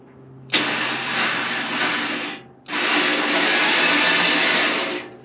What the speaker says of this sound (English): I think I can use the winch to just pull it a little closer